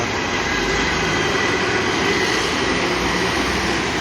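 A KSRTC bus passes along the KK Road as a loud, steady rumbling roar of engine and tyres, heard close by from a roadside waiting shed without pause for the whole few seconds.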